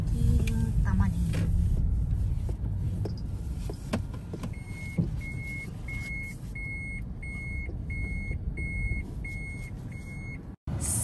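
A car pulls into a parking spot at a store, its engine and road rumble steady under intermittent talk, with a power window whirring and a regular series of reversing-style beeps repeating near the end.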